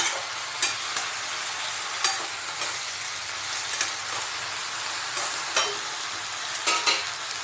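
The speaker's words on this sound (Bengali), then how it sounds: "হলুদের গুঁড়ো দিয়ে আর একটু নেড়ে নেব আমি" Pui greens cooking with poppy seed and turmeric in a pan: a steady bright sizzle runs throughout, with a spatula scraping and stirring in several distinct strokes. No talking.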